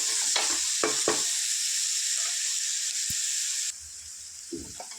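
Coriander is stirred into a Telangana-style boti curry in a hot pan, giving a continuous loud sizzle and hiss with a few scraping strokes of the spoon. The frying quiets abruptly near the end, then one more short stir sounds.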